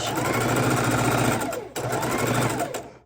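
A sewing machine stitching log cabin quilt block pieces made from fabric scraps, a loud, steady close whir that pauses briefly midway and then runs on before slowing to a stop.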